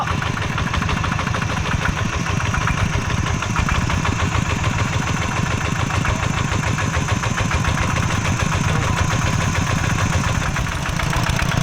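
Engine of a water pump runs loud and close for the whole stretch, a steady throbbing mid-pitched chug with a fast, even pulse and no pauses.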